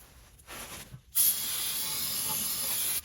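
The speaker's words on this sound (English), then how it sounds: "I'm going to go ahead and spray it off." Brake cleaner aerosol can spraying onto a transmission valve body and TCU of a Nissan R51 Pathfinder: a short hiss, a brief pause, then a loud, sustained close-up spray until the end.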